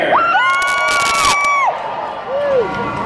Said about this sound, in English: I said raise a cheer!